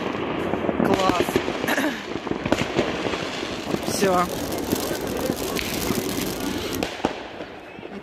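New Year's night fireworks over a square in Otradnoye, a dense run of crackling bursts and pops, some whistling, with excited voices talking over the display.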